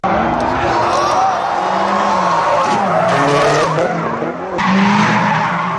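Loud, continuous tire screeching from a high-horsepower rear-wheel-drive drift car sliding sideways, with a high-revving engine roaring underneath, rising and falling over several seconds.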